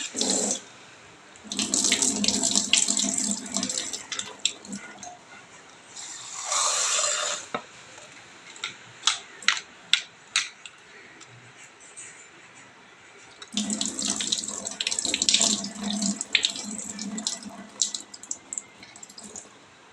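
Water from a running tap splashes over a mixer grinder jar being washed in a home kitchen, coming in several bursts of gushing flow with clinks and handling knocks between them.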